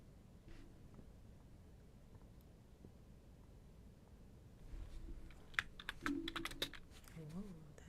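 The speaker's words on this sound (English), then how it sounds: "Okay, let's do some typing." Quiet clicking of a computer keyboard in an ASMR setting: a soft, hushed stretch gives way to bursts of close, crisp keystrokes in uneven runs during the second half.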